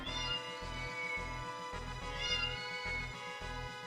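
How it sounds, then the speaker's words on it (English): A female cat in heat meowing insistently, a series of about eight repeated, drawn-out calls in a regular rhythm, close and clear with no speech over them. "a cat here"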